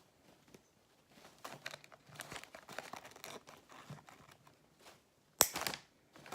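Scissors cutting pink Dollar Tree artificial flowers off their stems, giving scattered crinkly snips and rustles of plastic petals and leaves, close and fairly quiet, with one sharper, louder snap near the end.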